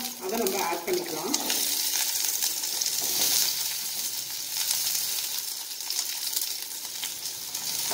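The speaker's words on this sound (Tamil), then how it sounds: "இந்த சின்ன வெங்காயம் வதங்கிட்டு இருக்கட்டும்" Small onions, shallots, sauté in hot oil for fish kulambu, a loud, continuous close sizzle with a few stirring scrapes near the start and a voice talking over it.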